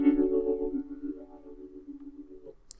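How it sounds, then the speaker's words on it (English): An Arturia Wurli V2 electric piano preset, dry with no effects, sounds a soft sustained chord that slowly decays over a few seconds, mellow and alone, ending with a faint click. "Third thing I added was this Wurli V2 preset,"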